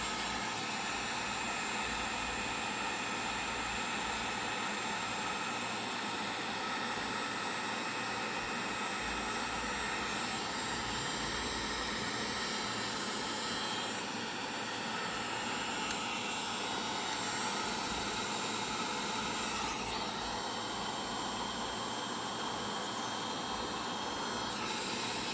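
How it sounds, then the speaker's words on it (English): A heat gun blows a steady, loud, broadband hiss while shrinking heat-shrink tubing onto wire lugs for an alternator positive cable in a Tahoe build, running continuously throughout with no talk. "we'll just take our heat gun and"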